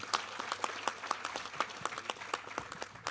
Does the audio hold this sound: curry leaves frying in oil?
no